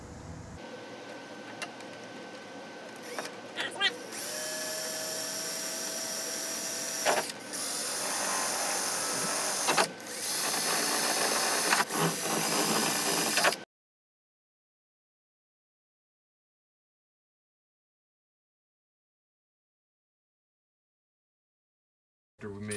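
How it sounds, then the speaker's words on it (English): Power drill pre-drilling screw holes during a DIY step van RV build, whirring bursts of varying length with brief pauses between, close and fairly loud, then cutting to silence. "Right now I'm gonna pre-drill the holes."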